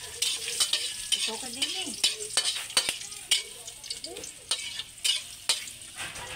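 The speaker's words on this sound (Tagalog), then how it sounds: "At hahaluin na po natin guys." Garlic, skins still on, being stirred in a frying pan, sizzling steadily with repeated close scrapes and clinks of the spatula, while a voice speaks briefly over the cooking.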